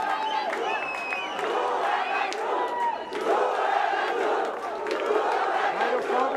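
Fans at an MMA fight in Pakistan cheer, shout and whoop in a dense, continuous crowd roar that swells midway and stays loud to the end, with scattered applause and voices within it.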